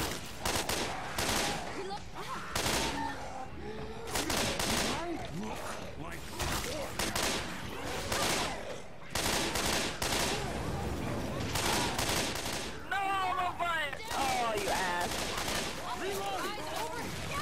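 Rapid bursts of gunfire in the zombie shooter Left 4 Dead 2, sharp repeated volleys crackling loud and close, with voices calling out between the shots.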